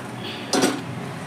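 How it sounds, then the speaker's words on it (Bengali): A single metal kadai (wok) is set down onto a stovetop with a brief, sharp clank and a short rattle, standing alone against a quiet kitchen background. "এখানে আমি একটা কড়াই বসিয়ে দেবো"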